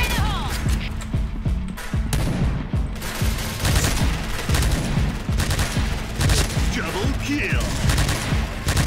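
Gunfire from a rare gun in a shooting video game, firing in three-round bursts: dense, loud shots repeat across the clip over a busy low game-sound bed, with no talking.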